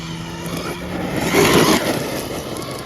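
A Losi Super Rock Rey RC truck whines and crunches over rocks, its motor rising to a louder surge midway and then easing off, close by and without talk.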